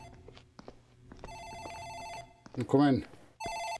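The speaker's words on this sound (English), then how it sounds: "Phone in the office ringing." An office telephone in the horror game Dark Fracture rings in repeated electronic bursts, one long ring and then a second starting near the end, with a brief spoken line and footsteps between them.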